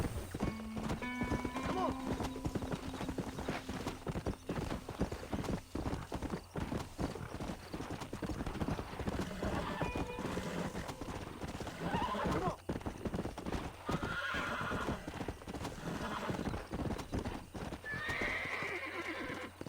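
Horse hooves clip-clop steadily in the Red Dead Redemption video game, with loud, close neighs and whinnies breaking through and a person talking over parts of it.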